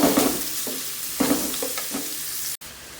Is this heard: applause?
no